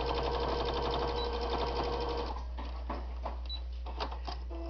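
A sewing machine stitches fabric for a bowl cozy, running a quick continuous burst, then slowing into short, halting back-stitch pulses over a steady low hum, close and moderately quiet.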